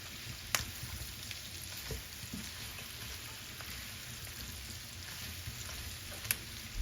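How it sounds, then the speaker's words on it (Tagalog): Onions sautéing in a pan for a simple estopado give a steady, close hiss of frying with scattered crackles and pops, heard alone without talk. "Lalagyan ko itong sibuyas. Igisa na natin."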